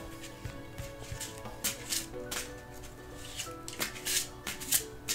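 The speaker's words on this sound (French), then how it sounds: "J'ai bien envie de vous tirer une carte" A deck of oracle cards, a past-lives oracle set, is shuffled by hand in a steady, continuous riffling rustle, close and moderately soft, heard under background music.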